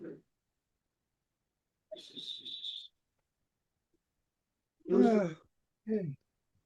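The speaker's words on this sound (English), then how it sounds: "Another cry that Barn Owl make, and the reason they're nicknamed the ghost owl is because the cry that they made" A barn owl gives its cry, a harsh, breathy hissing screech lasting about a second and heard clearly against silence, with a person speaking briefly afterward.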